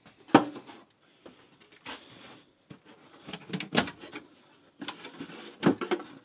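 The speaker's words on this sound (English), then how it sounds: "Let me pull the little lenses off here." Plastic lenses being pried and pulled off a police lightbar indoors, giving several separate bursts of clicking, snapping and rattling handling noise at close range with short quiet gaps between them.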